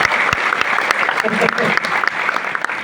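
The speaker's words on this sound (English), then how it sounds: "So give yourself a big round of applause." Loud, steady round of audience applause at a DXN business meeting, with sharp individual claps popping out of the dense crowd noise and a voice talking over it.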